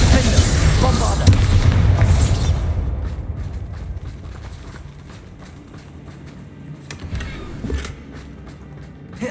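A Bombarda spell explodes in the Hogwarts Legacy video game with a loud broadband boom at the start, then a decaying rumble and scattered smaller impacts that fade into quieter game ambience.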